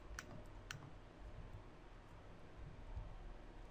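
Faint, sharp mouse clicks come while the control key is held during 3D retopology work, two distinct taps near the start over a steady low hiss.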